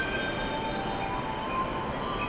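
JR East E233 series electric commuter train pulling away from a platform, a steady rumble with a rising electric motor whine, continuous and fairly close.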